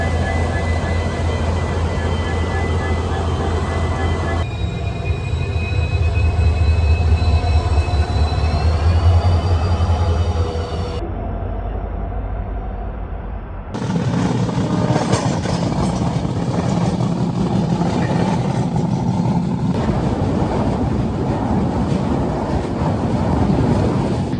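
A Duronto Express train crossing the Mandovi river in Goa: a loud, steady rumble of wheels and carriages with strong wind rushing past, heard from on board throughout.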